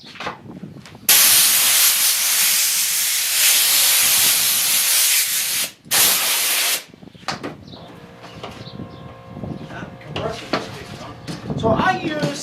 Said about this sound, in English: I'm going to use my air hose and blow that table off a little